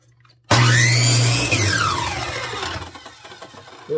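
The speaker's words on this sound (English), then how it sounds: "So let's cut this piece." A power tool cuts a wooden pickup truck cab piece: a loud motor whine starts abruptly, holds steady, then slowly winds down and fades.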